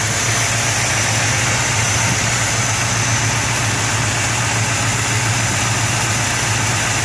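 A 1960 Chrysler 300F engine idles steadily up close, an even, continuous low hum with a constant droning tone and no other sounds.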